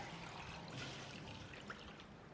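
Clean water poured into a bowl of blanched pork ribs, a soft steady trickle and splash at close range, low and continuous with no talking.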